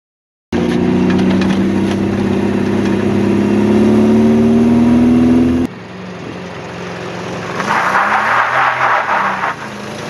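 A Toyota 4x4 pickup converted to a flatbed revs loudly on a test drive. The engine note climbs steadily, then cuts to a lower rumble, and a second rising rev follows under wind and road noise.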